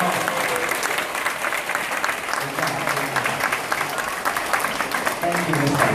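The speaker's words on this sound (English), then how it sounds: "let's give them a big round of applause" A crowd at a Primary 6 school assembly at Macau Anglican College breaks into sustained applause, with full, continuous clapping throughout and faint voices underneath.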